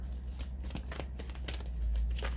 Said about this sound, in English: I have a bad habit of looking at the camera instead of looking at me shuffle the cards.